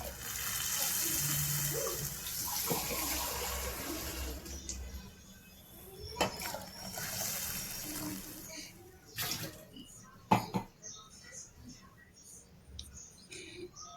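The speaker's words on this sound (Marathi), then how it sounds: "आता मी याच्यामध्ये मला हवे तेवढे पाणी ओतून घेत आहे रसासाठी." Water poured into a pan of cowpea curry to make gravy, a steady gushing pour for the first several seconds, then fading into quieter clinks and small splashes with faint background noise.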